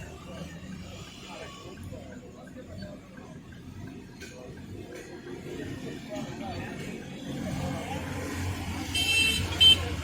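A Daihatsu Move with an electronic throttle malfunction (codes P2118 and P2119) idles with its engine revs surging up and down, a low, steady rumble under background noise that swells slightly toward the end.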